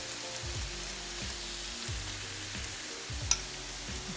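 Potatoes frying in a pan with rosemary garlic oil give a steady, even sizzle with soft crackle, close and moderate in level, broken by one sharp clink near the end, with no voices.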